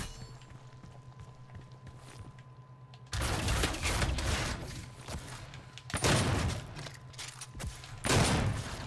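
Shotgun blasts in the DOOM video game during online multiplayer: three heavy, loud shots spaced a few seconds apart over a quiet background hum, each a sharp burst with a short tail.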